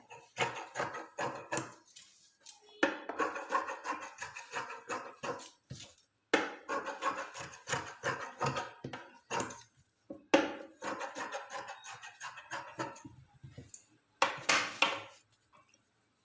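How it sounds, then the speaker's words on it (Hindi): Scissors trim extra fabric from a stitched pillow cushion, giving close, crisp snipping clicks in quick runs broken by short pauses. "और बाद में जितना भी एक्स्ट्रा कपड़ा हमारा बचेगा उसको हम कटिंग कर देंगे"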